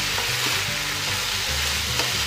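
Red Thai curry paste sizzling with vegetables in a frying pan, a steady loud hiss with stirring scrapes and soft clatter throughout, no voices.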